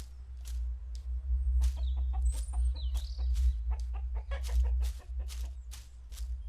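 Farmyard chickens in the video game The Third Pig cluck in quick, choppy bursts over a low steady hum, with a few higher chirping calls mixed in at moderate loudness.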